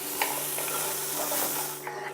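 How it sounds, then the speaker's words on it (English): Chopped onion sautéing in a pan while the bottom is scraped to loosen browned bits for pumpkin braised pork: a steady soft sizzle with light scraping and stirring scuffs, close and continuous. "we're just gonna let this saute for a couple of minutes"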